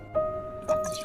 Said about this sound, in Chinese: 泡好之后把大米清洗干净，然后把水倒掉